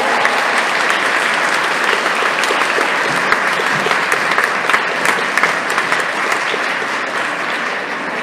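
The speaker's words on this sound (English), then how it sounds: "please a big round of applause for Anasofía" A conference audience applauds after a closing keynote by Anasofía Sanchez, with loud, continuous, dense clapping that carries on at full strength throughout.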